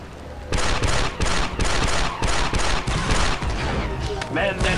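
Turret gunfire in Star Wars Republic Commando: loud, rapid bursts of automatic fire in repeated volleys, broken by short pauses, with some speech mixed in.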